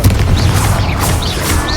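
A Confringo blasting spell explodes in Hogwarts Legacy gameplay, giving a loud, sustained booming roar with crackling bursts that fill the whole moment.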